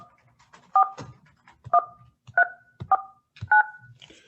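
Five touch-tone phone beeps sound in slow succession, each a clear dual tone, with faint shuffling and background noise between them.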